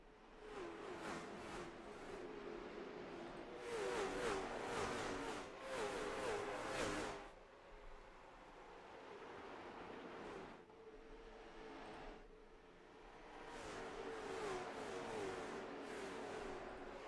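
A field of late model stock cars roaring at Richmond Raceway, layered engine drones swelling and fading as cars pass, with surging bursts of revving between quieter stretches, moderately distant.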